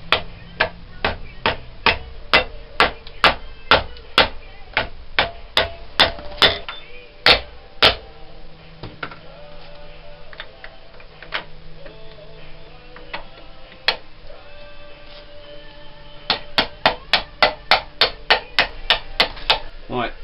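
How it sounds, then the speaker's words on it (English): A rubber mallet strikes parts during a Honda CG125 motorcycle rebuild, landing steady rhythmic blows in two runs separated by a quieter stretch with a few isolated knocks, close and loud. "my liberal use of my rubber mallet"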